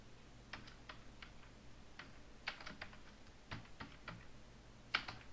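Light tapping on a computer keyboard while entering menu items into web page code: scattered soft clicks and short runs of keystrokes, quiet and close, with no talking.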